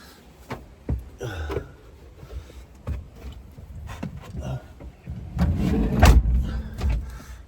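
Car on a farm driven round to park beside a hedge, one window missing. Engine noise rises and falls with door and handling thumps, loudest near the end, close to the microphone, with no clear talking.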